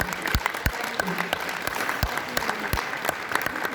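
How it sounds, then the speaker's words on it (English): An audience applauds a guest at a leadership training seminar in Poland, continuous clapping with sharp individual claps standing out, while a voice speaks faintly underneath. "So one more applause for my guest today."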